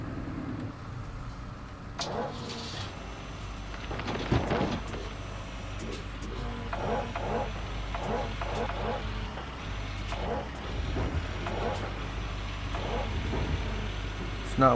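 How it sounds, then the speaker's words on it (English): Truck engine in Gold Rush The Game at a gold-mining dig, a steady low diesel rumble moving slowly with occasional clanks and a hissing burst, continuous under someone talking. "Move this truck on up a little bit."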